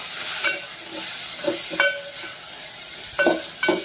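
Coriander powder, cumin powder and homemade biryani masala sauté in a pan for paneer pulao, with a soft steady sizzle and a few spatula scrapes and knocks.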